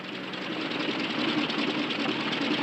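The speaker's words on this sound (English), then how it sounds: "Engine trouble, sir." A propeller airplane engine with engine trouble drones steadily and roughly, a continuous close mechanical rumble with an uneven, sputtering texture and no talk over it.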